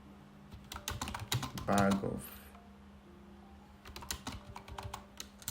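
Rapid clicking of typing on a computer keyboard in bursts, close and fairly loud, with a person talking over parts of it and a pause in the middle.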